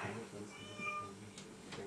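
Meowing from a cat in a home near gas drilling, several faint plaintive calls over quiet room noise, with a voice talking softly underneath.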